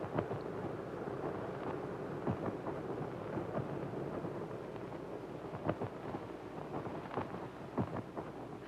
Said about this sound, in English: Do you hear the wind? Doesn't it seem to be getting louder and stronger?